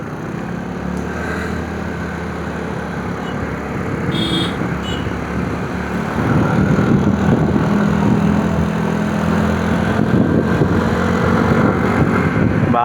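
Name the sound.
car engine noise while driving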